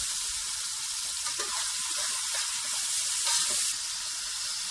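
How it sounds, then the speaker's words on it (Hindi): Garlic and ginger paste sizzling in a tomato and onion masala, a constant hissing sizzle with faint bubbling, close and steady throughout, no speech. "अब मैं इसमें डालने लगी हूँ लहसुन और अदरक का पेस्ट"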